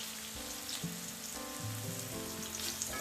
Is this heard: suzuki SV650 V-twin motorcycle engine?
no